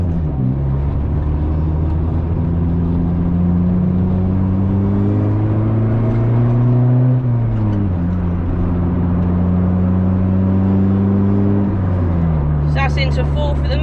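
A small 1.3-litre non-VTEC Honda Logo with a loud modified exhaust revs under load from inside the car, its droning note climbing through the gears with shifts between pulls, and someone speaks near the end.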